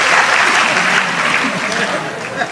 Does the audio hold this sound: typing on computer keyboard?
no